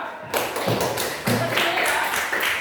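A classroom group claps for the second student group after its presentation, a few quick hands tapping together in short uneven bursts, close and moderately loud.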